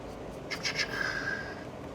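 A pen writes on a cardboard tube in a short, close burst of scratchy strokes followed by a brief thin squeak, all over a quiet background.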